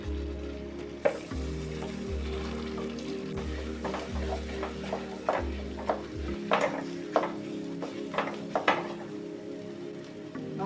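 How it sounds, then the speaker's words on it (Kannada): Mashed pumpkin sizzles in ghee in a frying pan, left over from roasting cashews and raisins, with a low repeating hum early on, then close scraping stirs and small clinks over a steady fry, and no voices. "ಅದೇ ಬಾಣಲೆಗೆ ಅದೇ ತುಪ್ಪಕ್ಕೆ ಸ್ಮ್ಯಾಶ್ ಮಾಡಿದಂಥ ಚೀನಿಕಾಯಿ"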